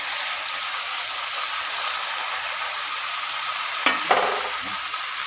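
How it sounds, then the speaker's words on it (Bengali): Fried vegetables and bori sizzle in a pan as a spoon stirs them, a steady close frying hiss with a couple of sharp scraping clinks near the end. "দিয়ে ভালো করে আমি নেড়ে ফেলে দেবো"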